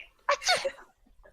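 A single voice gives an exaggerated mock sneeze, a quick breathy burst followed by a short exhale.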